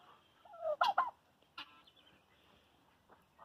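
A turkey gobbles in a short, agitated burst, loud and close, followed by a fainter squawk and quiet background.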